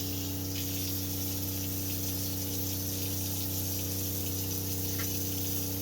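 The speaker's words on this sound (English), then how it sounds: "Just kind of want to wash your chicken off in cold water." A steady, continuous stream of cold tap water hisses and gushes over a constant low hum as raw chicken is washed, with no talking.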